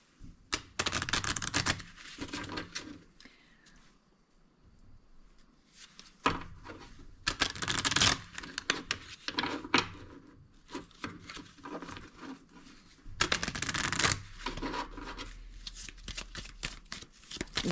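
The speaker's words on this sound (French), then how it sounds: "Je vais venir mélanger les cartes." A deck of Japanese Lenormand cards is shuffled in repeated bursts of dense, rapid riffling and pattering, close and fairly loud, with quieter pauses and handling between bursts.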